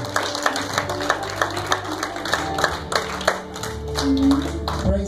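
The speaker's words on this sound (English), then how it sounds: "Let's give God a big clap offering." A church congregation clapping in a steady rhythmic beat, the claps fairly close and regular, over sustained organ or keyboard tones.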